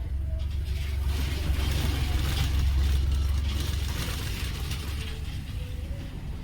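A sewing machine stitches folded fabric with a steady, close mechanical whir and a faint ticking rhythm that runs throughout.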